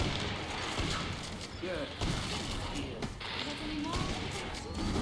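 Killing Floor 2 gunfire, mostly shotgun blasts and rapid shots, booming and crashing in dense bursts under a player's excited talk throughout.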